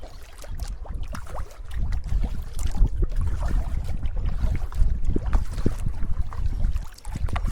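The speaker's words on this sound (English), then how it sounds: "Paddling through an old burn area." A canoe on a backcountry trip in Quetico Provincial Park paddles through an old burn area, with irregular close splashes and sloshing water strokes mixed with light wind buffeting.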